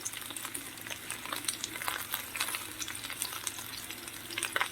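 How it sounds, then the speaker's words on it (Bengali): Pointed gourd frying in a pan with a batter of shrimp, egg and onion over a medium flame, giving a soft, even sizzle and crackle throughout with no voices. "এবার আমি এর মধ্যে যে এই চিংড়ি মাছ ডিম পেঁয়াজ যে একটা ব্যাটার বানিয়েছি ব্যাটারগুলো আস্তে আস্তে দিয়ে দেবো এর মধ্যে"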